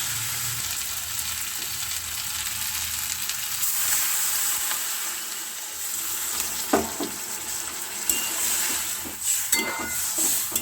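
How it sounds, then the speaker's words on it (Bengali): Water is poured into a hot pan of frying potatoes and greens, giving a steady sizzle throughout with a few clinks and scrapes of utensils toward the end. "এবার পরিমাণ মতো আমি জল দিয়ে দেবো"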